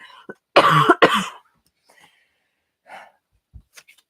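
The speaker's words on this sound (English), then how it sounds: "forgive me, I'm going to cough." A couple of sharp, close coughs, followed by quiet breaths and faint small sounds in a mostly silent room.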